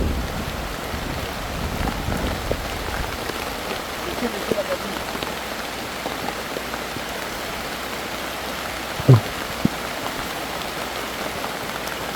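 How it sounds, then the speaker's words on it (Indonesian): Steady rain falls on a hilltop summit, a constant broadband hiss with no pauses and one brief knock near the end. "dan hujan turun."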